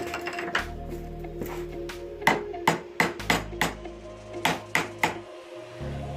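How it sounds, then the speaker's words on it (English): A nail gun fastens the compartments of a cheap wooden workbench, firing about a dozen sharp, close bangs in quick, irregular bursts over a low background hum. "I am using my nail gun to secure this as opposed to screws"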